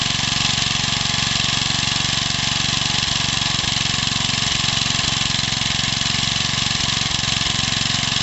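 A small Suffolk engine built from Briggs parts runs steadily nearby with a buzzing, even putter, occasional faint knocks punctuating the constant drone.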